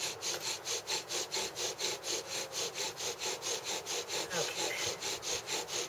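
A bow drill spindle grinds in a skinny wooden hearth with a steady back-and-forth rasping rhythm, about three strokes per second, close and fairly loud, while a voice briefly speaks.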